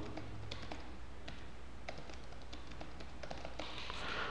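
Quick irregular clicks of keys on a computer keyboard during fast typing in MS Word, heard close and fairly quiet over a faint low background hum.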